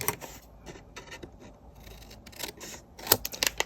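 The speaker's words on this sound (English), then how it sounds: "Cut the corner off like we did the pocket." Scissors snip the corner off a piece of scrap card in a few short, close crunching cuts, with small rustles between them and a sharper burst of snips near the end.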